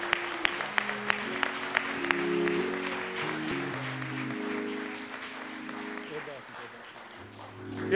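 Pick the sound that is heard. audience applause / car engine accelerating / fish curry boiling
audience applause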